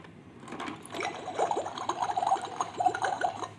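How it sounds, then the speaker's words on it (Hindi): Busy mechanical clicking and gurgling patter from a turning wheel on a toy boat, steady and close, with a watery bubbling quality over a few seconds. "ये पानी की आवाज़ आती है जब व्हील को आप घुमाते हैं ना"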